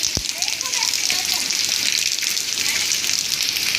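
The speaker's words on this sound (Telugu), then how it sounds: "చూడండి అంత జోరు వర్షం పడుతుంది." Heavy rain pours down in a dense, unbroken hiss that fills the whole stretch, with a single dull knock near the start.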